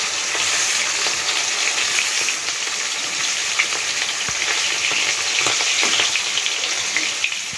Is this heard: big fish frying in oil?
yes